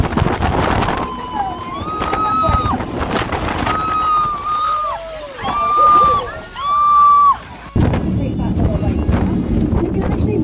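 A whirlpool jet boat on the river at Niagara Falls, Ontario, spins through a Hamilton turn, its jet engine roaring in rising and falling whines over wind buffeting and water rush while passengers cheer and shout nearby.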